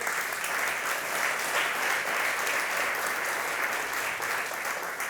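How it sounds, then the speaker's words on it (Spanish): A church congregation applauding during a sermon, many hands clapping at once in a thick, steady patter that holds evenly for several seconds without any talk. "Denle un aplauso al Señor, hermano."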